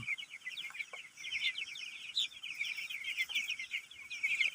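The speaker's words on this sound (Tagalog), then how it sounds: "Update po tayo sa ating mga alagang manok." Steady, busy high-pitched peeping and cheeping from a group of eight-day-old chicks, continuous and fairly close, with no voices.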